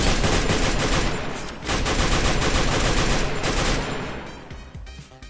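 Dense automatic gunfire from the battle game Free Fire, loud and sustained bursts rattling almost nonstop for about four seconds before thinning into scattered shots.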